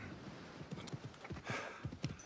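A horse's hooves clip-clop at a walking pace, a string of soft, evenly spaced thuds close by on hard ground, heard alone.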